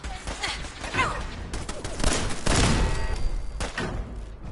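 Enemy gunfire during a firefight in the video game Fallout 4, loud bursts and rapid volleys of shots with thuds, building to a dense stretch near the middle and continuing in scattered reports.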